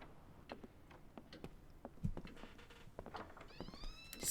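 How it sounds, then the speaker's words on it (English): A room full of clocks, cuckoo clocks among them, in Professor Layton and the Lost Future gives off faint, scattered ticking with light clicks against a quiet background. "So many clocks."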